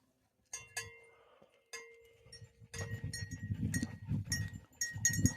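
Goats on an outdoor outing bleat in several short, bright calls, some overlapping, with livestock bells clinking and a busy shuffle of animals close by.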